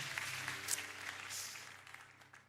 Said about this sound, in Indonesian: Kasih tepuk tangan luar biasa.